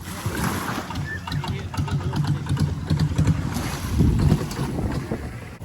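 A rented kayak moves across the sea at Koh Lipe, Thailand, with water splashing from paddle strokes, wind buffeting the microphone and a voice speaking briefly.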